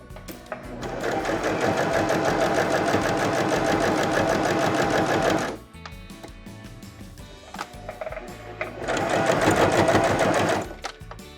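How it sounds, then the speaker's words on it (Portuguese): An SS-226c sewing machine runs its overlock function to sew a hem on a dish towel, giving two loud, close bursts of fast rhythmic stitching separated by a quieter pause of softer mechanical whirring. "Aí sim, ele já começou a costurar o meu barrado."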